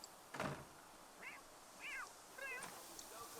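Several short rising-falling cat meows from The Sims 3 game, spaced apart at moderate level over a faint steady background, with a brief thump near the start.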